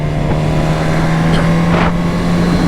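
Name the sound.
Suzuki GSX-S 1000 motorcycle riding up a road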